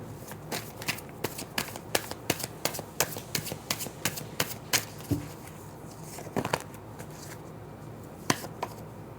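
Tarot cards being shuffled by hand in a quiet room, a series of crisp riffling snaps and taps repeating in an uneven rhythm, close and fairly soft, with no talking.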